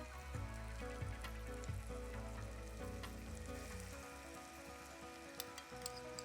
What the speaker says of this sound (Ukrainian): І теж відправляємо до цибулі для смаження на повільному вогні 2-3 хвилини